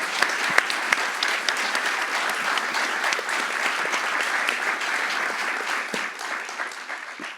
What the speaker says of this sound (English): Can we please have a round of applause for